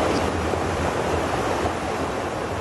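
Floodwater from rain-swollen ravines rushing over the E35 highway, a dense continuous roar of churning water with wind buffeting the microphone, loud and unbroken throughout.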